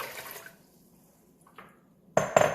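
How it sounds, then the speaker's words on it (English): Water poured into a container to make a Thanksgiving turkey brine, a faint trickle and then a loud close splashing gush near the end. "Add your water"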